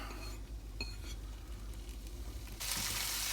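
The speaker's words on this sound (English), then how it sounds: "Okay, in with our bacon and onion." Bacon and onion hitting hot olive oil in a pan, a soft continuous sizzle with a few light clinks of a utensil, quiet and close, turning into a brighter hiss near the end.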